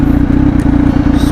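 A motorcycle on a Sunday morning road ride runs steadily and loud, its engine droning low with a continuous rumble and faint clatter throughout, no talk over it.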